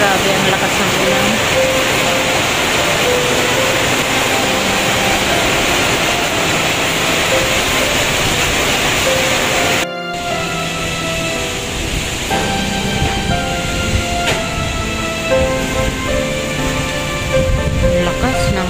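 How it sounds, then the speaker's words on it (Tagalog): Heavy rain pours steadily during Typhoon Paeng in the Philippines, a dense continuous roar of rainfall and water that fills the whole clip, with a brief dropout midway and no voices. "Grabe ang lakas ng ulan."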